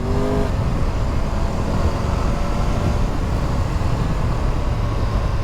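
A 2022 Triumph Tiger 1200 triple engine with T-plane crank roars close by, a dense, throaty rumble that holds steady under acceleration, with wind buffeting mixed in.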